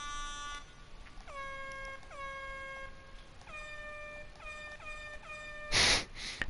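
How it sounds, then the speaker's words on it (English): Car air horns in the Need for Speed Heat video game sound in a rapid series of blasts, each a short descending multi-tone honk, repeated about eight times, followed by a loud burst of noise near the end, with no talking. "Let's go with one of the air horns, probably whichever one sounds the most obnoxious."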